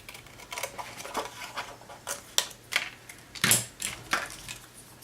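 Scissors cut through cardstock for a handmade mini album, giving a series of crisp snips and crunches at an irregular pace close by, with no talking.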